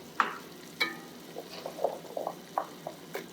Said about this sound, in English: So the next thing I'm going to do is put the carrots in.